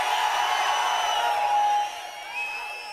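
Large crowd at an outdoor election campaign rally in Attur, cheering and roaring as a broad, sustained wash of voices that swells and then eases slightly near the end, with no clear speech on top.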